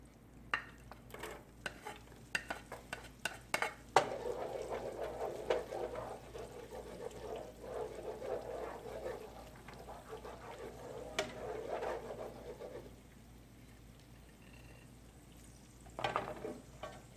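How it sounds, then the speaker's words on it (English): Garlic sizzling in melted margarine in a pan for Filipino bistek tagalog, a steady close frying hiss with scattered utensil clicks and stirring scrapes, quieter toward the end. "the margarine is melting. Now I have to put the garlic."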